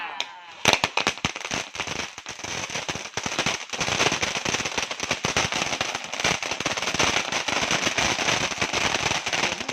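Dense, rapid Diwali firecracker bursts crackling continuously and loudly for several seconds after a sudden start, with occasional shouting voices underneath.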